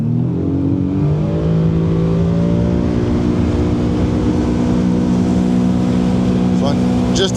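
A Sea-Doo personal watercraft engine runs at a steady high drone on a windy Georgian Bay, loud and close with constant wind rumble and a brief rattle near the end.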